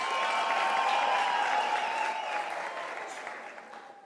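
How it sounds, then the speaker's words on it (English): Audience applause at a University of South Africa autumn graduation ceremony, a dense wash of many hands clapping at once that holds steady and loud, then slowly thins and fades toward the end. "Can we give a round of applause?"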